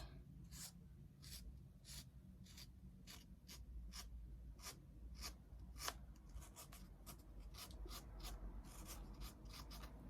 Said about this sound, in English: we're gonna draw where our first track is gonna be